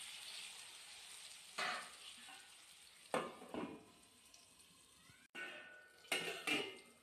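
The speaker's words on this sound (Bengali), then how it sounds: "দিয়ে পটলগুলোকে এবার ওপাশ লাল লাল করে সুন্দর করে ভেজে নেব।" Pieces of pointed gourd (potol) fry in a generous amount of oil in a wok: a soft, steady sizzle with occasional louder bursts and light clatters of stirring.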